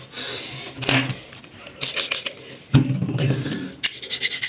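A blade is drawn across a synthetic aluminium oxide whetstone in repeated rasping strokes, close and fairly loud, with brief pauses between passes and no talking.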